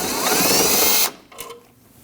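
A ratchet spins fast and loud for about a second, removing a 10mm headlight bolt on a 2012-2016 Honda CR-V 2.4L, then stops, leaving faint clicks and handling noises.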